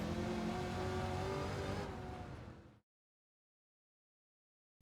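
A 1969 Chevrolet Corvette Stingray Convertible C3 driving in Gran Turismo 7, its engine droning steadily and loud before cutting off abruptly into silence.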